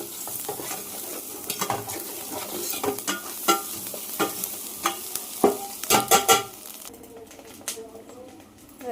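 Hot rice being stirred into egg fried rice in a pan, with repeated scraping and clacking strokes of a spatula over a low sizzle, close and fairly loud, with faint background sounds.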